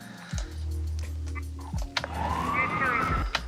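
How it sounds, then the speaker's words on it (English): Police sirens wail over a low rumble, with a rising and falling tone that sweeps up strongly in the second half, mixed with some short clicks and bursts that could be radio chatter. "One is the police sirens and the radio communication."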